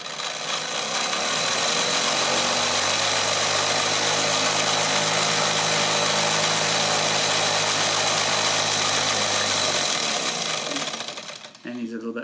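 A small model steam engine runs steadily and loudly for about ten seconds, a continuous mechanical whir with a low hum, then winds down near the end.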